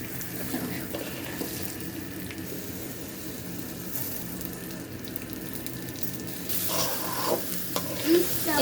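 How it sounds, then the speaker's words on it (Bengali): Rice is fried and stirred in ghee for pulao, giving a steady close sizzle with continuous scraping and stirring that grows louder toward the end. "এখন এই চাউলগুলোকে সুন্দরভাবে এলের সাথে সুন্দর করে ভেজে নিতে হবে"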